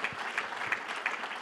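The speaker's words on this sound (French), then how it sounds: "on peut vous applaudir." Brief applause from a conference audience, fairly faint and distant, with soft rhythmic clapping swells.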